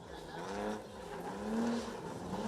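A drift car's engine revs under throttle while sliding sideways during a qualifying run in Indonesia, rising and falling pitch with faint tire noise, heard faint and distant.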